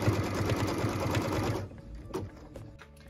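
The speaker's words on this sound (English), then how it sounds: "What we're stitching now is the cut line for piece number 2" A sewing machine stitches a pieced-tree quilt block along a cut line, its rapid even needle chatter running loud and close for about a second and a half before stopping, followed by faint handling clicks.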